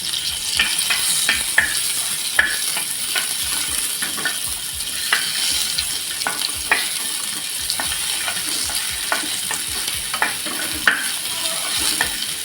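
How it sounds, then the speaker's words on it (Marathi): Onion fries in oil in a pan, a continuous close sizzle under repeated scraping and clinking strokes as it is stirred, with no voices. "कांदा आपला थोडासा फ्राय करून घ्यायचा आहे"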